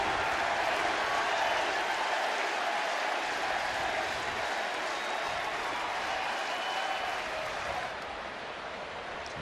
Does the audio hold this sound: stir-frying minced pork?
no